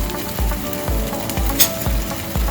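Spanish rice with cumin sizzling in a pan while being stirred, steady frying crackle punctuated by regular scraping strokes of the spoon, close and alone without talk.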